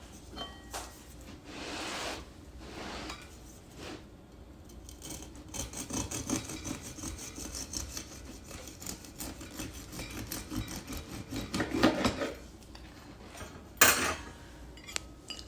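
A knife slicing through a cooled loaf of homemade buttermilk cheese bread on a board, with scraping and clinking of utensils and a louder clatter near the end, all without talk.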